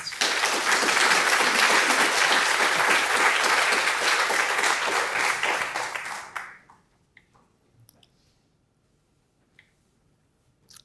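Audience at a lecture on volcanic hazards bursting into loud, dense applause that holds for about six seconds, then quickly tapers off into near silence with a few scattered stray claps.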